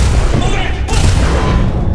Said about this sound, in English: Here, a grenade,